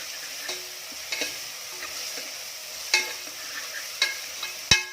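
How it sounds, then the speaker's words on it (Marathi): Whole spices, including black peppercorns and green cardamom, stirred and sautéed with onions in a pan for chicken masala, with a steady soft sizzle and scattered sharp clicks and scrapes of the spoon against the pan. "हा मसाला यामध्ये घालायचा आहे आणि हा देखील कांद्यासोबत छान परतून घ्यायचा आहे"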